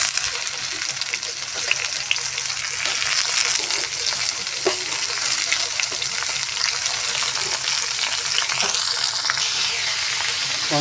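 Chopped tomato frying with ginger in a pan while cooking a Bengali rohu fish curry, a loud, steady sizzle and hiss with occasional stirring scrapes throughout.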